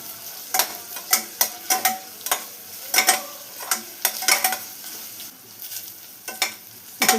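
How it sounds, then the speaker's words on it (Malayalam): Curry leaves hit a hot pan of softened onions for a Kerala dal curry, setting off sharp crackling pops in irregular bursts over a low background sizzle. "നമുക്കൊരൽപ്പം വേപ്പില കൂടെ ആഡ് ചെയ്ത് കൊടുക്കാം."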